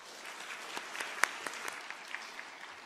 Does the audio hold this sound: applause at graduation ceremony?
yes